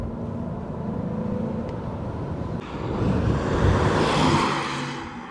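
A Mercedes-Benz 560 SEC (C126) accelerates hard under a stabbed throttle, heard from inside as a low engine roar that steps up and swells louder midway, then holds a strong rising drone.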